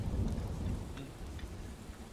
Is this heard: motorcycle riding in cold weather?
no